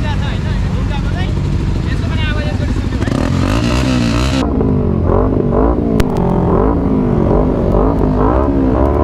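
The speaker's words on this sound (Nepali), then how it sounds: "सिभिआर 600 होइन त्यसको आवाज हामी हल्का सुन्यो है आवाज एकदम बबाल छ" A Honda CBR 600 motorcycle engine revs in rising and falling bursts, loud and close, with people talking over it on a group ride in Japan.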